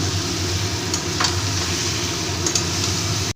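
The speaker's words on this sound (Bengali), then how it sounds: "এবার ভেজে রাখা ডিমগুলো দিয়ে দেব দিয়ে আবার একটু ভালো করে কষিয়ে নেব" Fried eggs and potatoes are sautéed with spices in a pan for a Bengali egg curry. A steady, close sizzle runs throughout, with scraping stirring strokes breaking through now and then.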